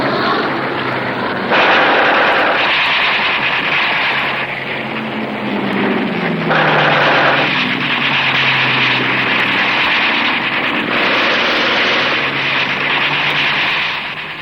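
Battle of Britain air combat with WWII German bombers and fighters: a continuous loud roar of aircraft engines with rumbling bursts that could be gunfire or explosions, steady throughout with no talking.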